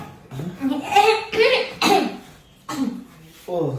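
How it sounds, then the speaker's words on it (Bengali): A woman coughs several times in short, harsh bursts with throat clearing between them, close to the listener and recorded indoors. "হ্যাঁ আমি কাশি দিছি"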